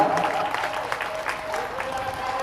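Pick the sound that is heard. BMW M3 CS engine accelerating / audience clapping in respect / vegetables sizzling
audience clapping in respect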